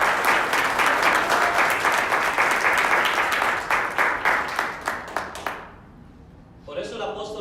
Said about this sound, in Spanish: ¿Por qué no le da un aplauso al Señor?